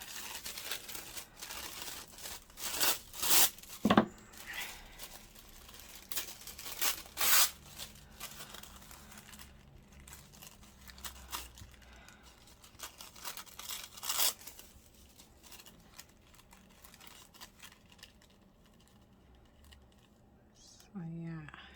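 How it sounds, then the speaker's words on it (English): Junk mail paper being torn by hand for a journal cover, with several short ripping and crinkling bursts close by and a faint voice murmuring in places. "So let's tear a bit of this down."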